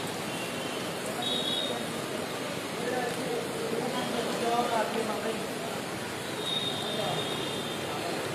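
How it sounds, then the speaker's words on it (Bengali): Surma river water rushing strongly during heavy rain in the Sylhet region, a dense, steady broadband roar that continues throughout, with faint voices in the background. "পানি যাচ্ছে, পানির শব্দটা আমরা একটু শোনানোর চেষ্টা আপনাদেরকে করি,"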